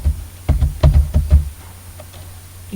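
Typing on a computer keyboard while writing Excel VBA code, a quick burst of several crisp, close keystrokes that then trails off.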